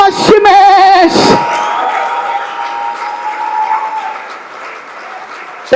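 A church congregation bursts into loud, sustained applause and cheering that fills the room, following a brief sung or shouted phrase, then gradually thins out.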